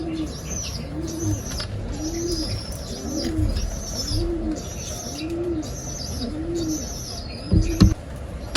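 Pigeons coo in a steady, repeating rhythm of soft rounded calls, close by, over a background of bird chirps, with a brief rustle or flutter near the end.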